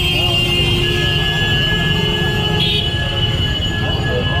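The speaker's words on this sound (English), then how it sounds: "Check out the incoming traffic." Dense street traffic rolling in along College Street in Kolkata, a steady loud roar with continuous engine drone and high tonal whines from passing vehicles, close by throughout.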